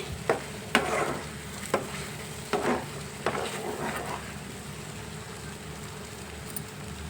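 Coconut, cashew and sesame paste frying in a pan for a potals masala curry, a soft steady sizzle with a few scraping stirs near the start, quiet and close, no voices.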